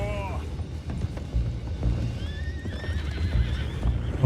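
Horses whinny and neigh over steady hoofbeats and a dense rumbling game soundscape in Red Dead Redemption 2, with a voice talking faintly underneath.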